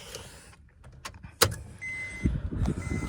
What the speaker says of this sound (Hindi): पर लेट्स कार स्टार्ट करते हैं.